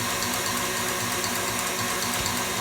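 A stand mixer whips egg whites for Italian meringue, giving a steady, dense mechanical whir with a faint ratcheting texture that holds at an even level for the whole stretch, with no voices.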